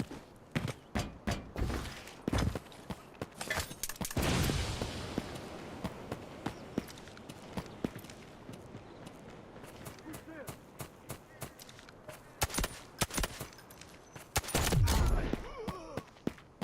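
Bursts of gunfire from the mobile shooter game Delta Force Mobile, with repeated sharp shots and rapid volleys scattered across the scene, heavier clusters near the start and end, over a steady game ambience.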